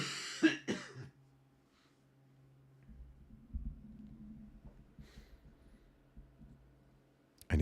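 A couple of sharp, close coughs at the start, followed by quiet low rumbling and another brief burst at the very end.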